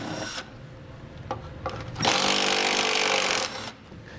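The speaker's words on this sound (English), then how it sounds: "We're gonna remove those with a 10 millimeter socket." A power tool briefly whirs, then runs loud and steady for about a second and a half as a 10 millimeter socket backs out fasteners from a vehicle's undershield, preceded by a few clicks and knocks.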